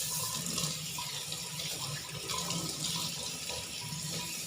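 Tap water runs continuously into a sink while a tilapia is washed under it, a loud, steady splashing rush with slight surges of splatter throughout and nobody speaking.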